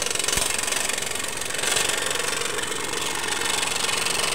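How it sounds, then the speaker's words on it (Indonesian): Scroll saw machine cutting, a steady rapid buzzing and rattling motor drone with a fast reciprocating chatter, close and continuous throughout with a slight swell midway. "bagaimana cara memotong dengan mesin scroll saw ini"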